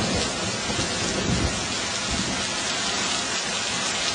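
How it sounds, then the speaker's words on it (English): Hail and heavy rain pour down during a thunderstorm in Meridian, Mississippi, making a dense, continuous hiss and patter with low rumbling underneath, steady and close throughout. "Matter of fact, it's hailing right now."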